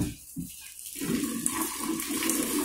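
Freshly boiled water from a kettle splashes and pours into homebrewing equipment to sanitize it, beginning faintly then becoming a steady, close rushing gush for most of the clip.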